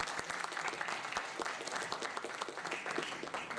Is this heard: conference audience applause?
yes